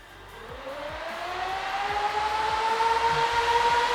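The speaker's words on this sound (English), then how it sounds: "That's what a working server sounds like. That's some good airflow." A newly bought server powering up, its fans spinning up into a rising whine over a steady, growing rush of moving air, loud and close with a faint rhythmic ticking underneath.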